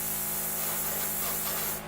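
Airbrush or spray gun laying a steady hiss of paint onto a scale model, continuous and close, fading slightly at the end.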